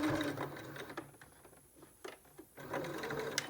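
A sewing machine runs close by while stitching elastic onto a fabric face mask, a steady hum that pauses midway with a few short bursts, then resumes.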